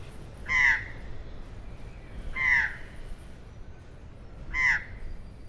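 Australian magpies calling outdoors on open country, three separate short harsh calls spaced about two seconds apart, moderately distant over a low steady background rumble.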